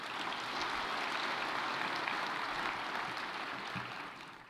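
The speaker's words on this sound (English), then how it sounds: "Let's give him, please, a big round of applause." Audience applause at a summit, a faint, steady wash of clapping heard from a distance that holds evenly and then tapers off toward the end.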